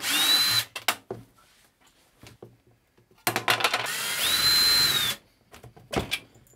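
A power drill removing screws from a Bazooka tube subwoofer whirs in two long bursts with a steady high whine, separated by clicks and knocks of handling, close by.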